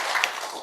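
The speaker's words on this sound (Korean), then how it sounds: "하나님께 박수 영광 올리겠습니다." Church congregation clapping together after a prayer, a dense, even wash of hand claps with a couple of sharper taps standing out.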